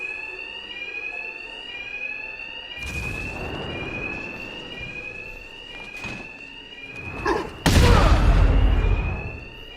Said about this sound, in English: Just like the others, these thugs can't hear a thing over the alarms.